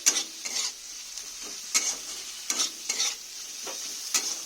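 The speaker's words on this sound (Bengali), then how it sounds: "সবগুলো আমি ভালো করে একটু কষে নেব" Onion and tomato sauté in a pan for okra bharta while a spoon scrapes through them in repeated distinct strokes over a soft, steady sizzle. No one speaks.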